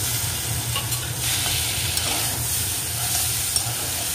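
Garlic and onion paste sautéed with small fish in a pan gives a steady, close frying hiss with faint stirring scrapes throughout.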